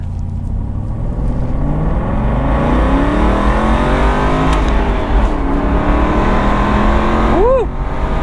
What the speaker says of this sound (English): The exhaust sounds great, too.